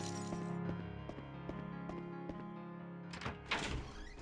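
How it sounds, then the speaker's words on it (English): In the Clock Tower 3 video game, thrown holy water strikes a door with a couple of splashy impacts near the end, following a run of regular soft clicking thuds over a sustained droning game soundtrack. "The holy water has a lot of range, so even though we're right over here, it's still gonna hit the door."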